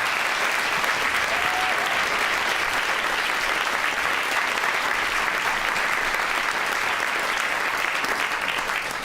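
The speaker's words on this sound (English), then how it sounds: "So big round of applause for all of our musicians," A festival audience applauds the musicians at a Northern Roots folk music event, a steady, dense wash of clapping that stays loud and even throughout with no pauses.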